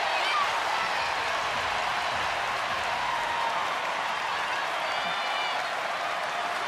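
A basketball arena crowd on its feet during a UConn women's game against Baylor, a steady roar of cheering and applause that fills the space, with a commentator talking over it.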